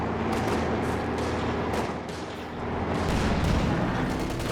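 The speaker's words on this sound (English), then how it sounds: "And a mortar." Mortar fire in the Company of Heroes 2 video game comes as muffled thumps and crackling distant gunfire in a noisy battlefield mix, fairly faint overall.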